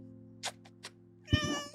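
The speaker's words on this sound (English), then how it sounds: "I gave birth to 4 beautiful kittens." A mother cat with a litter of kittens gives three short, close meows, then a longer, louder drawn-out meow, all alone with no talk.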